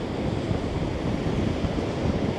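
Ocean waves surge against a pier on a very windy day, a dense roaring wash of surf mixed with heavy wind buffeting the microphone, loud and continuous.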